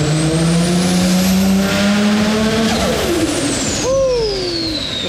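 The RB25 engine in an R33 Nissan Skyline revs hard, holding a loud, close, sustained roar that climbs slightly in pitch. Near the end a sharp whine sweeps up and then falls away.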